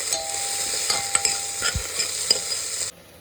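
Vegetables for dal khichdi, including potato, cauliflower, green peas, beans and carrot, sauté in a pot with a steady sizzle, broken by several scraping stirs and a thud before it cuts off.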